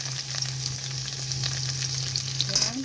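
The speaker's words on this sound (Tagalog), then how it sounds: "igisa natin hanggang maging golden brown siya" Ginger and onion sautéing in a pan for a Filipino clam dish: a constant close sizzle and crackle of frying, with a low steady hum underneath.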